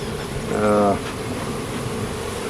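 A steady honey bee buzz around an open hive fills the background, with one louder, droning pass swelling briefly near the start before settling back.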